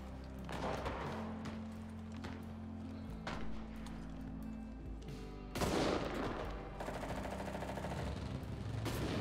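Gunfire in the video game Enlisted: a few sharp shots crack at irregular intervals over a steady, low background drone. The whole scene is fairly quiet.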